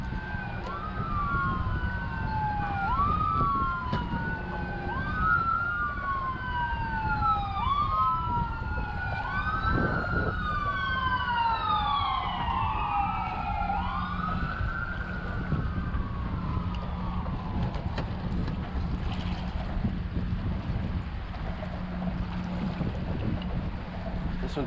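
Several sirens wail in the distance, their rising and falling tones overlapping over a steady low rumble, with no talking.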